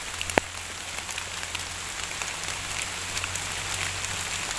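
Steady rain patters on leaves and surfaces in a forest during white amanita mushroom picking, a dense, even hiss with occasional sharper drips and a faint low hum underneath.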